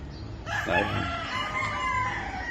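A young stag rooster at a gamefowl farm crows once, loud and close, in a drawn-out call that holds steady to the end with no talk over it.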